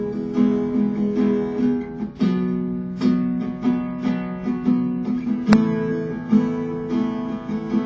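Acoustic guitar strums the chord progression of a song in a steady repeating rhythm, chords ringing clearly and close with a sharp accent partway through, no voice over it.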